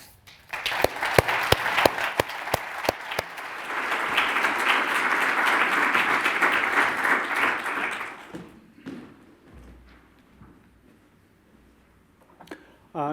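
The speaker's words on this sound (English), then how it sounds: "I'd like you to give a round of applause" A few sharp claps build into full, sustained audience applause at a STEM event, which dies away after several seconds into scattered claps and quiet murmuring.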